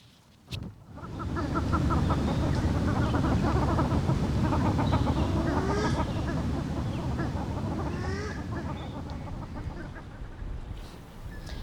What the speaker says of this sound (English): Throw my microphone at the ducks, see if I can get some good sounds.